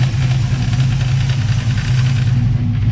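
A dune car engine idles loud and close with a steady low rumble that holds evenly throughout, no voices over it.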